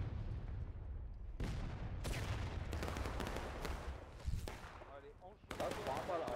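Musket volleys in the War of Rights video game, a massed line firing on command across a wheat field, with several sharp broadband crashes spaced a second or so apart over constant battle noise and faint talk.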